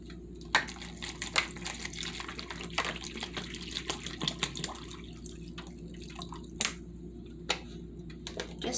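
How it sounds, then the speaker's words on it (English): Water is poured over eggs, making quiet trickling and splashy drips with scattered small splashes and wet squishes in a calm room. "next we're going to put water."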